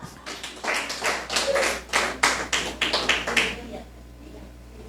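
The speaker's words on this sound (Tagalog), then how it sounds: "Palakpak." Church congregation clapping in rhythmic bursts during a Filipino discipleship training session, a steady run of claps over about four seconds that fades out, then one sharp sound at the end.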